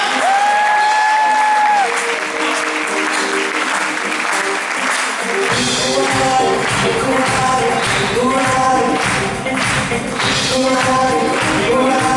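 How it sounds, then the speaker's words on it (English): Loud, sustained applause from a large audience, clapping continuously for several seconds, with a brief musical tone fading at the start. "Put your hands together and welcome all the way from Mumbai, Raman and Srinidhi Khatate."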